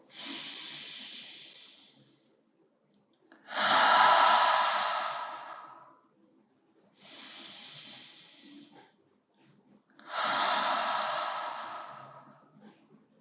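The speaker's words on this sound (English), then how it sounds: "We'll take a few inhales together." Slow, deep breaths during a guided relaxation, four long airy inhales and exhales alternating with short pauses, close and soft, with no talking.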